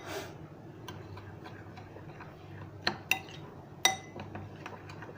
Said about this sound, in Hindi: अब पहले इसको चम्मच से मिक्स करेंगे